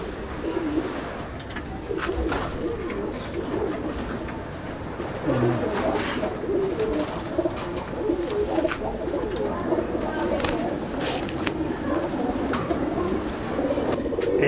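Pigeons coo in a breeding loft of black-eyed birds, soft layered calls running steadily throughout amid general loft noise, with occasional faint voices in the background.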